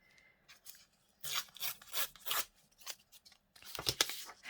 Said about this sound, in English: Actually, let's rip the top bit off.